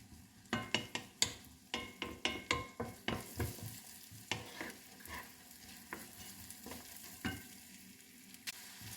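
Onion sautéing in a pan for lasagne, with repeated sharp stirring scrapes over a steady sizzle, the strokes coming in a quick rhythm early on and then thinning to occasional knocks; close and fairly loud, no talking.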